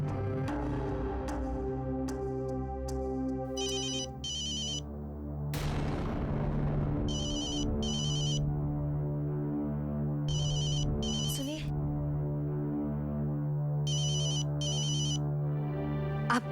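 A phone ringtone trills out in several repeated bursts above a steady musical background, in a Hindi television drama scene; a voice speaks briefly.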